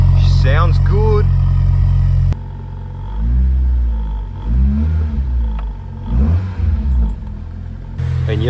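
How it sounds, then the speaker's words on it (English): Sharp revs from a Nissan Pulsar's SR20DE engine swell and fall repeatedly over a loud idle, interleaved with quieter stretches where someone talks. "I shouldn't have revved it that hard, but who cares? It's an SR20."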